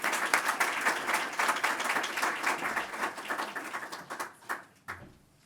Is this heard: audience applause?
yes